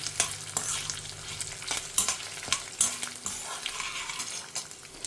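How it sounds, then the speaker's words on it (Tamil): Coriander seeds, fenugreek, cumin and dried red chillies dry-roasting in a pan for a huli saaru spice mix, with repeated close scrapes and stirs of a spatula over a faint, steady crackle; no one speaks. "நல்லா வாசனை வர வரைக்கும் வறுத்துக்கணும்"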